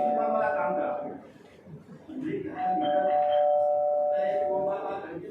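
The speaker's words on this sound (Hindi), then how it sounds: "वो बार घंटी बजा रहा है।" An electronic doorbell chimes twice in a home, each sustained ding-dong tone ringing loud and close, with a short quiet gap between rings and people talking throughout.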